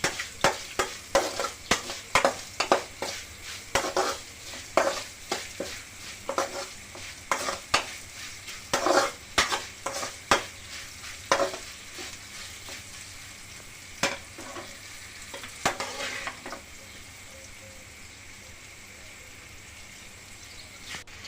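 Sliced okra frying in oil with a little turmeric, stirred with a spoon: crisp scraping strokes repeat over a steady sizzle, then the stirring stops and the quieter sizzle carries on alone.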